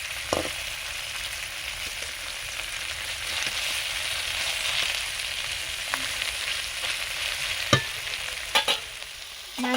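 Morola river fish and potato pieces frying in oil as they are turned, a steady close sizzle with occasional sharp clicks of the spatula against the pan.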